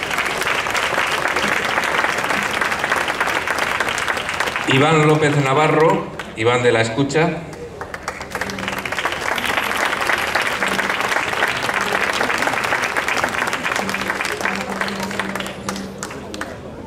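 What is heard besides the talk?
audience applause for the finalists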